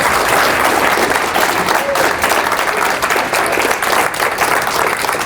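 An audience applauds at a live seminar talk, dense sustained clapping filling the whole stretch at steady loudness with no voices over it.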